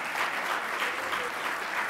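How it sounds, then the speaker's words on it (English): Crowd applause at an athletics hall of fame induction, a steady, even patter of many hands clapping at moderate distance, continuous throughout with no voices standing out. "give them a round of applause"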